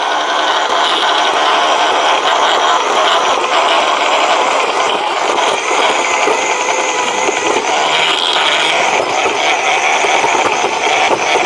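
A Wild Badger 40V battery-powered ice auger runs in first gear, giving a steady, loud mechanical whir and grinding hum that holds without a break from start to finish, with no voices over it.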